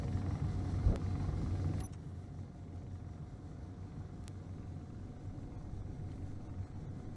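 Steady low rumbling roar of ship thrusters in the space game Space Engineers, continuous and fairly even, with a brief louder burst at the start before settling into a constant hum.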